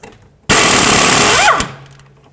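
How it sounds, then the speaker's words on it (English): A power tool whirs loudly for about a second, backing out a 12mm bolt on a Toyota Prius ABS sensor, then winds down and stops, with a quiet lull on either side. "Let's take this 12mm bolt out."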